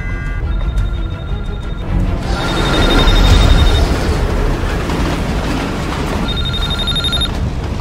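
A mobile phone aboard a passenger train rings in a film scene. Bursts of bright electronic ringing repeat over a loud, steady rumble of the train.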